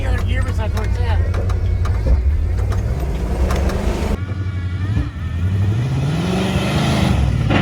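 A Jeep J20 truck with an AMC 360 engine drives along, its engine droning and revving steadily up close while people talk over it throughout.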